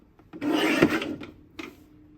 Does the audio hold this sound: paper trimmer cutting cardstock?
yes